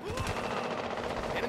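Gunfire in the Halo 5 video game, a rapid burst of automatic weapon shots rattling in quick succession over a busy, loud game mix.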